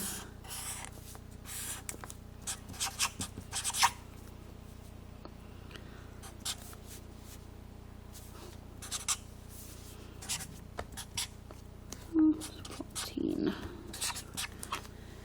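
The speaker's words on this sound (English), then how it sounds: "I'm writing my important information" Pen or pencil scratches across paper while math notes are written, soft intermittent strokes in short bursts, close and quiet, with a few louder scrapes and faint voice sounds near the end.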